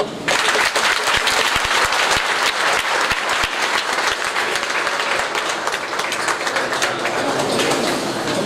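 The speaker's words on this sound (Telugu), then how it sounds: "ఇక జాగ్రత్తగా ఒక్కసారి చప్పట్లు కొట్టండి" Sustained clapping from a temple crowd during Vinayaka Chavithi special puja at a Ganapati temple, dense and loud throughout, with sharp individual claps standing out near the start.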